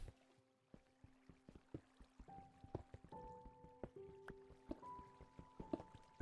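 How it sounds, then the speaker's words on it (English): Water sloshing in Minecraft, heard as a quiet series of irregular droplet-like plinks and splashes that grow busier and slightly louder over the stretch, with no talking. "Sloshing at the edge here."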